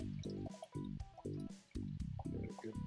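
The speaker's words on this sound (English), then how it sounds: "Give it a good pour." Annville IPA from Rotunda Brewing Company gurgles and splashes up close as it is poured into a glass, with short gulping bursts and drips in a quick, uneven rhythm.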